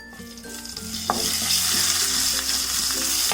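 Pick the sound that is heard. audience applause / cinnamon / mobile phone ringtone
cinnamon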